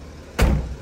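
One solid thud as the luggage compartment door of a new A.N.S. bus shuts, close by, after a moment of quiet background hum.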